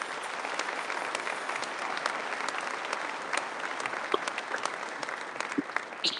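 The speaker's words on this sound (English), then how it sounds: "let's give a round of applause to everyone in this room who helped us make it to this moment" Applause fills a graduation ceremony hall as the audience claps together, a steady wash of many hands at moderate distance, sustained evenly without talk.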